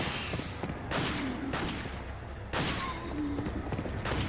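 Gunfire in the video game Resident Evil 4, a few sharp shots spaced about a second apart over quiet ambient background.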